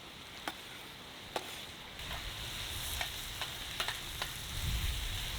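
A spoon stirs sauce and spring onion through rice and pepper beef in a single pan at a camp cook, with a steady hiss of sizzling and a few sharp scrapes and taps against the pan.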